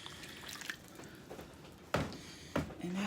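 Water poured into cake batter in a mixing bowl: quiet, close dripping and trickling, then two sharp splashy pours near the end.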